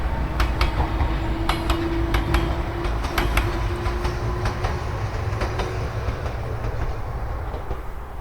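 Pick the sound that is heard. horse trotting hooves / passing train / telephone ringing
passing train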